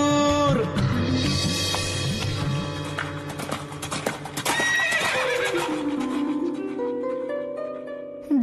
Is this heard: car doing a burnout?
no